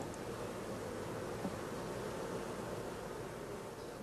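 Honey bees clustering inside a mating nucleus box, a dense continuous hum and buzz, soft and even throughout with no voices.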